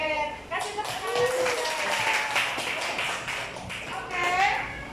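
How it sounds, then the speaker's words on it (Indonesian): Students in a classroom give a round of applause, a dense patter of many hands clapping with voices talking over it, moderately near and fairly steady for several seconds. "Oke, kasih tepuk tangan."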